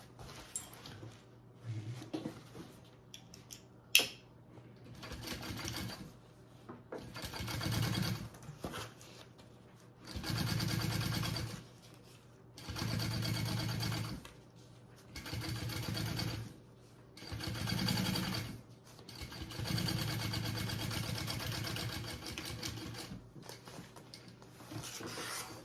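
A sewing machine top-stitches fabric in repeated bursts of fast, even stitching, each run lasting a couple of seconds with brief pauses between, heard close and fairly quiet with no talking.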